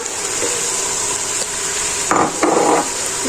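Meat and onion frying together in a pot for vegetable harira, a steady close sizzle with a couple of brief louder bursts of stirring near the end, no talking.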